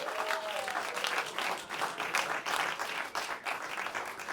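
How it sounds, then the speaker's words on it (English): Audience applause and clapping fill a comedy club as a comedian is welcomed onto the stage, a steady dense wash of hands lasting throughout without pause. "Give Drew a nice round of applause."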